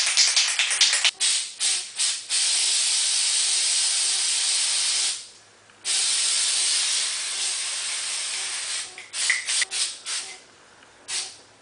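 Spray paint hisses out of an aerosol can onto a roto tom drum part held on a stick, in several short bursts followed by a long steady spray, a brief pause, another long spray and a final cluster of short puffs, close and loud.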